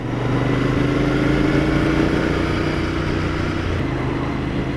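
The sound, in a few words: 2019 Royal Enfield Interceptor 650 motorcycle engine with twin exhausts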